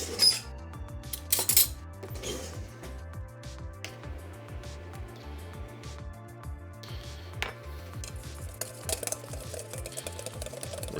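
A whisk or spoon beats Alfredo sauce in a bowl with a quick, rhythmic series of soft scraping taps, close and steady, with occasional sharper clinks.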